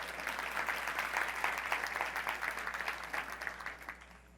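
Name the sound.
applause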